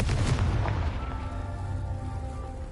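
A Confringo spell explodes in Hogwarts Legacy with a loud, deep, booming blast that rumbles and decays over a few seconds, heard alone without talk.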